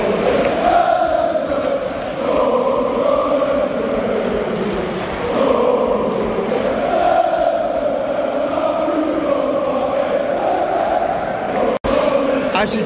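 Large football stadium crowd at a Manchester United versus FC Twente match, a continuous loud roar of massed voices and chanting that swells and dips, steady throughout with no pauses.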